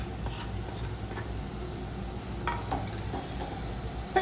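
Bean seeds frying in a pan with mustard spices give a low, steady sizzle, with a few faint stirring scrapes and clinks scattered over it.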